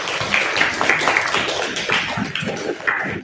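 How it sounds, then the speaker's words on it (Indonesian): Scattered clapping from a small group, a light patter of hands that rises and fades without a strong rhythm. "Tepuk tangan."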